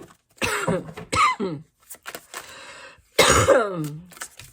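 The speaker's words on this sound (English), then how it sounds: "Might hear a little cough." Several harsh, throaty coughs come in two bursts, close by, with brief pauses and small breaths between them.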